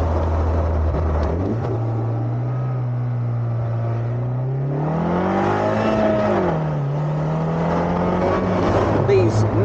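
A Morgan Aero 8 GT's BMW V8 engine revs up and pulls hard on a narrow country lane, its deep drone rising and falling in pitch as it accelerates, loud and close throughout.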